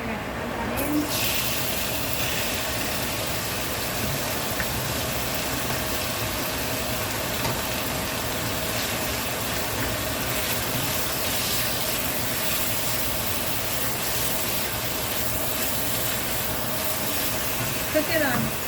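A chicken thigh frying in hot oil on high heat for keto fried rice: a steady, close, loud sizzling hiss that holds evenly from start to finish.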